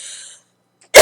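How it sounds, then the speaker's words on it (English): A single sharp cough bursts out suddenly at the end, loud and close, after a moment of near silence that follows a faint fading tone. "have no idea where that cough came from"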